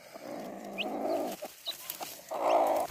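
A hen on a rural farm clucks and murmurs in two longer, throaty stretches with a few short notes between, close by and fairly loud, ending in a sharp knock.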